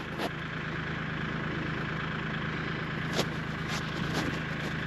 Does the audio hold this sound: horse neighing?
no